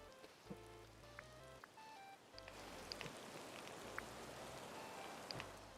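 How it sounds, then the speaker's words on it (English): Steady rain falling in the video game Disney Dreamlight Valley, a dense continuous patter alongside soft melodic game music chimes, moderately loud throughout. "So I can't turn that up because you can hear the rain."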